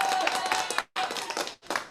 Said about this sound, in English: Can we hear an applause for that, Lester and everyone?